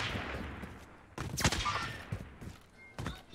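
A quick burst of gunfire rings out in an online shooter video game, a loud clustered volley in the middle with scattered shots before and after, heard at moderate distance.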